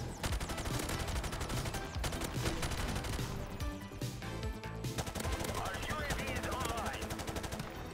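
Rapid automatic fire from a G36C rifle in the video game Call of Duty: Modern Warfare, dense bursts of repeated gunshots running loud and continuous under game music and effects.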